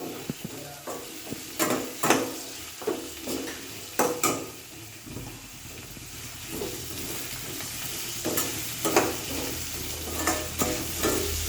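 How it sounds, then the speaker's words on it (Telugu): Green chilies and tomato frying with cinnamon, clove, cardamom and fennel in a pan, a steady low sizzle broken by repeated scraping stirs and light clinks of a spoon against the pan. "పట్ట లవంగము, ఏలక, సోంపు వేసిన తర్వాత పచ్చిమిర్చి, టమాటో వేసుకుని బాగా వేగనివ్వాలి"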